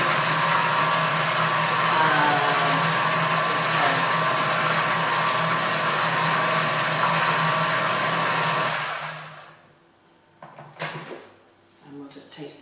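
A blender whizzes Caesar salad dressing heavy with pepper, a loud steady whir up close for about nine seconds before cutting off, followed by a few clatters and brief talk.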